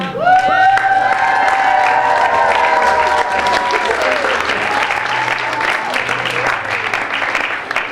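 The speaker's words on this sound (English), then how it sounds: "let's give a big round of applause for the faculty, Dr. Chris Adams, Dr. Alex Gantia, Dr. Chris" Audience applause and cheering after faculty are introduced at a university chemistry magic show, loud and sustained for the full stretch, with whoops and shouts rising above dense clapping.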